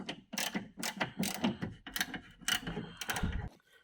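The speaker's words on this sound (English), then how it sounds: "Now we need to remove this Torx 30 and this Torx 30" Ratchet wrench turning out Torx 30 bolts from an Audi TT Mk2 window regulator, giving rapid, loud clicking bursts in a rough repeating rhythm, close up with no talking.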